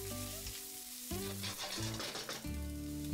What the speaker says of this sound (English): Add 1 sliced onion and fry it until the onion is nice and soft.